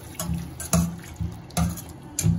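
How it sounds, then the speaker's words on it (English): Water from a cup pours into a pan for a Japanese tofu dish with ginger and garlic sauce, splashing in close, uneven gushes. "Now we'll just add in a bit of water."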